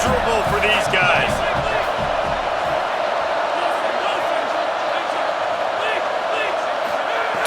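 A stadium crowd roars in EA Sports College Football 27, a loud, dense, continuous wall of cheering with whoops and faint voices mixed in throughout.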